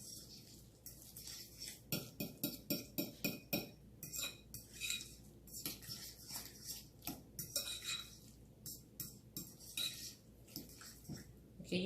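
Taco ingredients being mixed with a utensil in a bowl, producing a steady run of rhythmic scraping and clinking strokes, fairly faint and close, with no talking.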